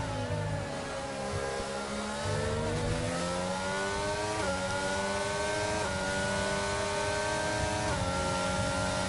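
Onboard F1 race car engine from the F1 22 game at the Austrian GP, a continuous high-pitched whine climbing through gears with sharp drops at each upshift, loud and close, no talk.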